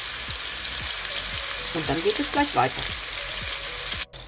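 Tomatoes frying and braising in a pan while a fried-potato bake is prepared, a steady close sizzle with a few stirring scrapes and clicks; a person talks briefly over it.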